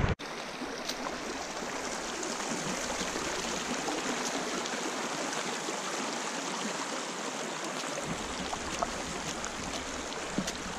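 A river flows steadily as a constant broadband rush of water, moderately faint and unbroken for about eleven seconds, with no voices.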